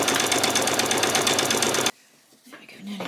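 A sewing machine runs its longest gathering stitch down the middle of skirt fabric, buzzing loudly and rhythmically up close for about two seconds, then stops abruptly. A person begins talking afterward.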